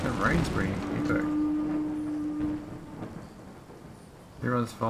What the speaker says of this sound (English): The rain's pretty epic.